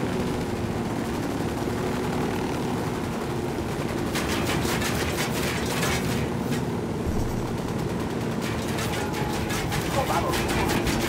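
Dense, continuous gunfire in Ghost Recon Wildlands, with bursts of rapid shots over a loud, steady rumble, voices mixed in.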